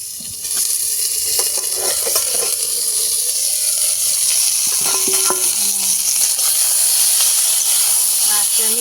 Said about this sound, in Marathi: मिरचीला भाजून घ्यावं लागतं